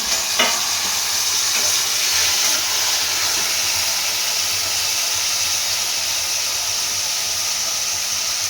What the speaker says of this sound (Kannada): ಒಂದು 4 ಹೆಚ್ಚಿರೋ ಟೊಮೆಟೊ ಹಾಕೊಳ್ಳೋಣ